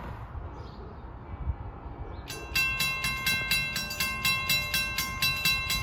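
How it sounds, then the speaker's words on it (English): LIRR train 6034, a Babylon–Speonk run with locomotive 409 leading, passes the Saxon Avenue crossing, its wheels beating a steady rhythmic clatter that starts abruptly after a quiet lead-in and repeats at a regular pace nearby. "Next train up is 6034, Babylon Speonk with 409 on the point."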